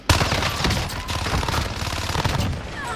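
Dense, continuous gunfire from the video game Call of Duty Warzone, with overlapping automatic bursts and single shots crackling loudly throughout, forming a steady barrage with no pauses.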